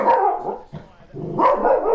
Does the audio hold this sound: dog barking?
yes